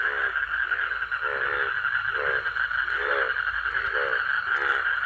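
Frogs croaking at a night pond in a rural village, a rhythmic series of about six raspy croaks over a steady high insect-like drone, fairly near and without talk.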